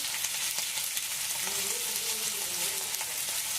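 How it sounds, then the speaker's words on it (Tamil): Small onions, dried red chillies and curry leaves sautéing over a low flame for onion chutney, giving a steady soft sizzle with faint stirring scrapes, close and even throughout. "கருவேப்பிலை இதெல்லாம் போட்டு நல்லா லைட் ஃப்ளேமில் இப்படி நல்லா வதக்கணும்"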